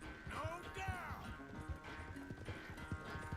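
A horse gallops in a video game, with rapid hoofbeats pounding in an uneven rhythm and a whinny near the start, heard close against a faint steady background tone.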